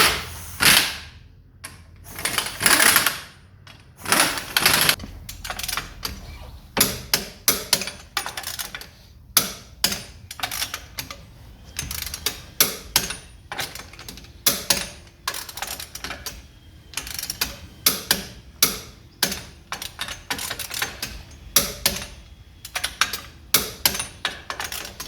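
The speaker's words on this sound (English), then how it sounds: "I'll wedge the brake pedal down and then torque them up" A wrench tightens the wheel nuts on a Land Rover Defender with alloy wheels, producing bursts of sharp ratcheting clicks close by, separated by short pauses and handling knocks, repeated for nut after nut.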